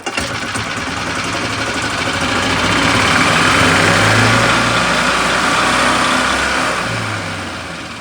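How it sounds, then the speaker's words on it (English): A Yamaha gas golf cart engine cranks and catches, then runs steadily with a buzzy, continuous drone that swells slightly in the middle and holds without speech. "Let's crank it up."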